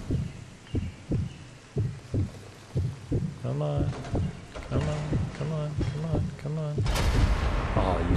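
A railway gun firing in the Sniper Elite 4 video game, heard as a run of heavy, booming blasts at a steady pace, with a voice talking over the later part and a louder rumbling burst near the end.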